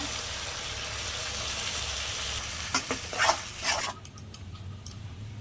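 Whole spices (bay leaf, cardamom, black pepper, cinnamon) with onion paste and tomato paste fry in a pan for a soybean curry, a steady sizzle at first, then a few bursts of stirring and scraping before it quiets.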